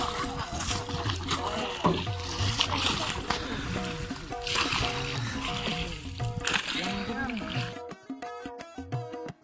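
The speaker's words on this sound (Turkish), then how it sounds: "balıkçılar her gün sabahtan akşama kadar nehirde kürek sallayarak" Fishermen row a boat on the Amu Darya river, oars splashing and sloshing in uneven strokes at close range, mixed with background voices, before the sound cuts to a quieter, sparser stretch.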